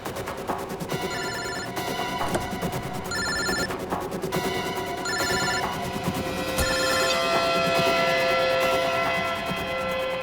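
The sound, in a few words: mobile phone ringing inside a car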